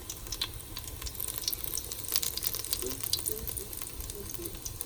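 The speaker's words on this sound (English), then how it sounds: "Patties are frying in some olive oil." Patties sizzle and crackle steadily in hot olive oil, a close, continuous frying hiss with small pops scattered throughout.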